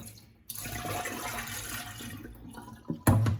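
Water pours and splashes steadily over pork ribs being rinsed for a few seconds, then sloshes and clatters briefly near the end, close by with no voices.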